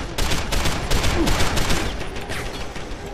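Automated turret gunfire in Deus Ex: Human Revolution, The Missing Link, a loud rapid stream of close shots rattling for about two seconds before easing into a rougher, slightly quieter tail.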